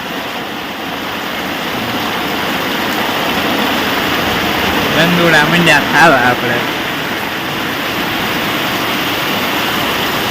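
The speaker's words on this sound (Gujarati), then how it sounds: "વરસાદ ચાલુ થઈ ગયો જોરદાર" A loud, steady roar of heavy rain pouring down continuously, with people talking over it.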